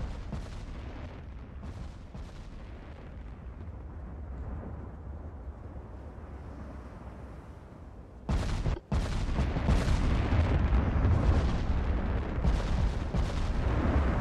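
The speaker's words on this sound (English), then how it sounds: "it's a lot of shells coming at him" Naval shells and gunfire roar in Ultimate Admiral: Dreadnoughts. Distant rumbling salvos build into a loud, dense barrage of booming impacts after a sudden burst, with repeated heavy thuds continuing to the end.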